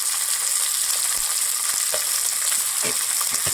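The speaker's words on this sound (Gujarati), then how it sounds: "ગુંદાની ભાજી તેલમાં આપણે ચડવા દેવાની છે" Gunda flower-bud greens frying in oil, a close, even hiss of sizzling throughout with a few soft taps and stirring knocks, no talking.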